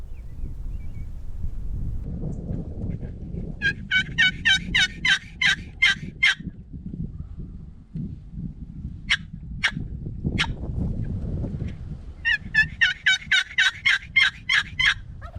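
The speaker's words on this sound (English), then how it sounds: "Still gobbling. Sound like he's a little deeper" A wild turkey in the Nebraska hills gobbles twice from a moderate distance, each gobble a rapid rattling burst over steady wind rumble, with a few sharp calls between them.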